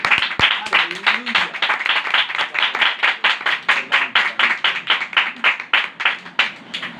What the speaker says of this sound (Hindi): एक बार अपने लिए ही जोरदार तालियां बजाइए